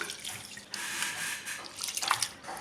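Soaked ration rice being washed by hand in bore water, with a steady watery sloshing and splashing that rises and falls as the grains are pressed and rubbed, close up and without talk.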